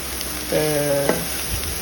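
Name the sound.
red amaranth greens being stirred and sautéed in a pan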